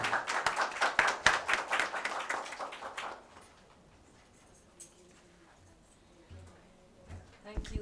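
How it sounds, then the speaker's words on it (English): A crowd claps for about three seconds, a dense burst of applause that fades out, followed by quiet room noise and scattered movement. "I would like to give a nice round of applause for all our speakers here"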